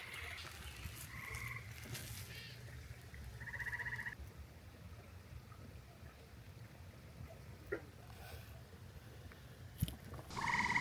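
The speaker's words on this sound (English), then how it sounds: "Frogs are everywhere." Frogs croaking in a rainy vegetable garden with tomatoes, peppers and arugula, short repeated calls from several animals rising over a soft ambient hiss, one louder croak near the end.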